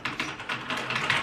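Typing on a mechanical RGB keyboard, a quick, close run of clacky keystrokes in an uneven rhythm, with no talking.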